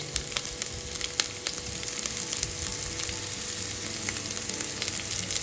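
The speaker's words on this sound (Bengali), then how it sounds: "তারপরে আমি এতে দিয়ে দেবো হচ্ছে 2 মুঠো ভরে পেঁয়াজ" Two handfuls of onions fry with black cumin seeds in a hot pan for a Bengali bhorta, giving a loud, steady, crackling sizzle that runs throughout with no talking.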